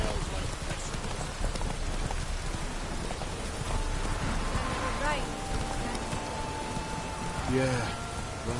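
Steady rain falls in The Witcher 3, a constant hiss of drops under character voices, with the clop of a horse's hooves and brief louder accents near the end.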